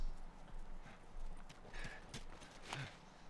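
Horse hooves clip-clopping in The Last of Us video game, a quiet, close, steady walking rhythm of hoof strikes, with no talking.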